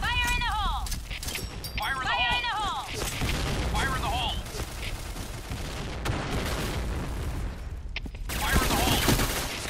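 Bursts of MP5K submachine gun fire in the Point Blank shooter game, with rapid crackling volleys and bright echoing reports mixed with other game effects, while a player talks over the action.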